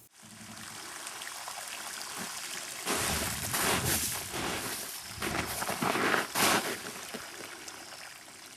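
Water runs through a stream table, carving a channel into the ground material, with a continuous trickling flow that swells into louder splashing gushes in the middle before settling.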